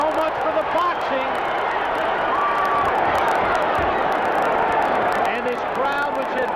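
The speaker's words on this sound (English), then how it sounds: "And this crowd, which had been low throughout most of the night, awakened." A boxing crowd at the Holyfield vs Mercer fight, a loud, steady arena roar of cheering that swells throughout, with a commentator talking over it.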